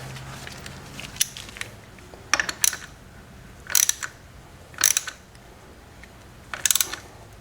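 Oil filter being spun by hand onto a Yamaha R6 motorcycle during an oil change, giving short scraping, ratcheting clicks in separate bursts spaced a second or so apart, close and fairly quiet.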